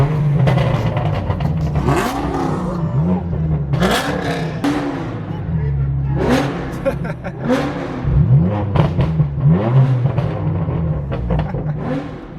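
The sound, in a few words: straight-piped BMW M4 F82 engine revving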